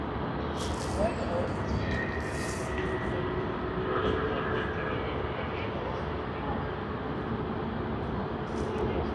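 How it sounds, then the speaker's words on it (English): A Qantas Airbus A330 begins its takeoff roll on runway 34L at Sydney Airport, heading for Perth, as a steady broadband jet-engine roar from a distance fills the whole stretch with a voice talking over it. "And the takeoff roll has begun. We also see on screen Sydney to Perth service of the Airbus A330 of Qantas."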